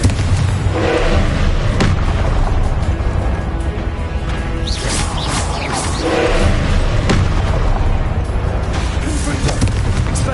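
Fiery blasting-spell explosions in the video game Hogwarts Legacy, repeated loud booms and crashing thuds over dense, continuous combat noise, with no clear pauses between impacts.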